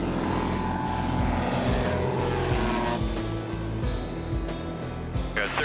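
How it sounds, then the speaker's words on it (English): A floatplane touches down on water, its propeller engine droning loud and steady throughout with some rushing noise toward the end. "That's how you land a float plane."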